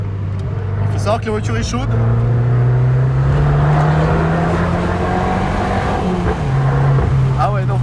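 An Abarth 595 with a catback exhaust and stage 1 E85 tune accelerates, its loud engine drone climbing steadily in pitch for several seconds while someone talks over it.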